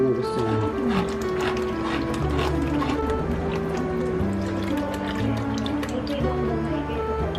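Nestle cream poured into a homemade spaghetti sauce with beef and hotdog: a soft, steady liquid pour and drip that continues throughout, with a faint tonal hum underneath.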